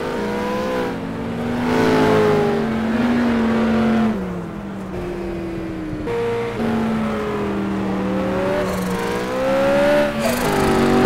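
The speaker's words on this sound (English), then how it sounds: "The turbo of the Hurricane resonates in a straight line." A turbocharged Hurricane race car accelerates hard along a straight while racing a BMW M5, its engine note rising and falling through repeated gear pulls, loud, close and continuous, with no talk.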